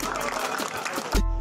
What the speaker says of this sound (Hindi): एक बार मेरे गुरु जी के लिए ताली बजा दो भाई